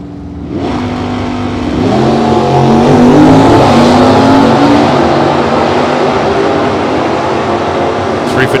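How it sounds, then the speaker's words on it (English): A 1972 Ford Mach 1 with a 351 Cleveland four-barrel V8 and four-speed roars off the line at a drag race in Las Vegas, a loud, close engine howl rising in pitch through the run and holding a sustained, throaty drone. "I do believe it's a Cleveland, 351 Cleveland 4-barrel in the Mach 1."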